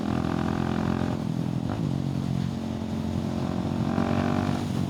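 A KTM 690 SMC R single-cylinder supermoto engine pulls hard and revs continuously on twisty roads, a loud, steady close-up drone with a brief dip in pitch mid-run before climbing again, with no talking.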